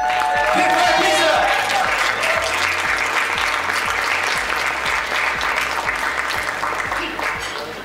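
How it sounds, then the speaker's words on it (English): Loud, sustained applause from a large audience at a restaurant awards ceremony after a pizza category winner is announced, with a steady dense roar of clapping and a voice talking over it throughout, easing slightly toward the end. "One more big round of applause, ladies and gentlemen"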